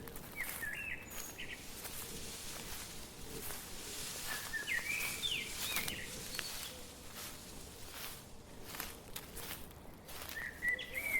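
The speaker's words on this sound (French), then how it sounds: "Écoute le vent, les oiseaux, le bruissement des feuilles" Birds chirp and sing outdoors on an Irish countryside walk, with short high calls at intervals over a soft constant background of breeze and rustling leaves.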